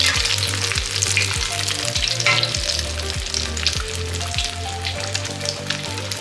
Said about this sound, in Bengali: উল্টায় উল্টায় ভাজতে হবে